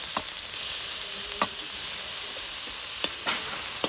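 Chili, ginger, chopped capsicum and carrot fry in a pan with a steady, close hiss of sizzling, broken by a few brief scrapes and taps as the vegetables are stirred.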